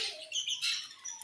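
Birds chirp faintly in the background outdoors on a bright, hot blue-sky morning, with a few short, high tweets over quiet ambience.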